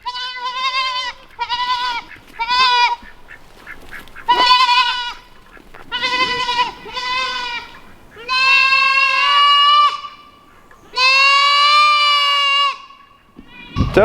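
Goats bleating and crying, a run of loud, close, wavering calls, some short and some long and drawn out, with brief quiet gaps between them.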